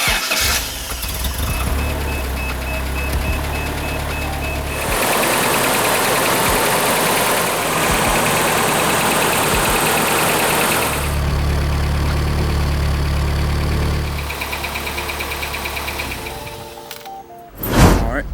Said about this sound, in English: let's just start up the car really quick, make sure everything is good